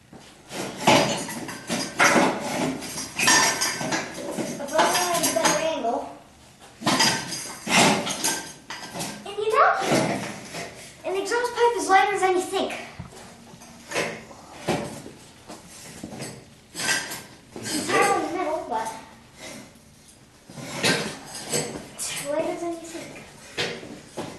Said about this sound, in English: my ace mechanic here is taking off the bolts holding the manifold on.